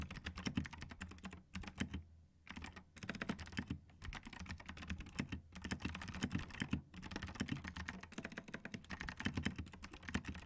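Gateron Blue clicky switches on a mechanical keyboard rattle under fast, continuous typing, with crisp close keystrokes and a few brief pauses between bursts.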